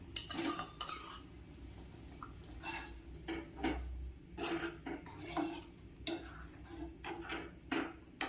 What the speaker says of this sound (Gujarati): ત્યારબાદ આપણે જે ફ્રાય કરેલી ડુંગળી હતી તેને હું એડ કરીશ